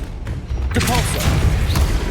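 A Depulso spell is cast in Hogwarts Legacy: a sudden forceful burst that swells into a sustained rumbling blast, loud and near, under a brief voice.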